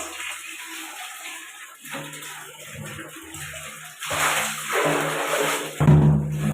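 Water runs and splashes into a basin, swelling louder in bursts toward the end, with faint background hiss and no talking.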